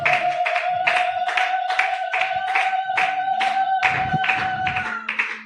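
A church congregation claps in steady rhythmic unison, about a dozen loud sharp claps over a sustained tone, with voices acclaiming underneath.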